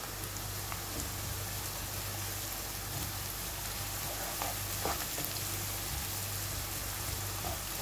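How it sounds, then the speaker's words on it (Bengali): Ginger garlic paste sizzles in a pan for a prawn and Malabar spinach curry, a steady, soft crackling hiss that runs evenly throughout with faint low hum beneath. "আমি অল্প একটু আদা রসুন দিয়ে এটা একটু ভেজে নিব, আদা রসুন বাটাটা।"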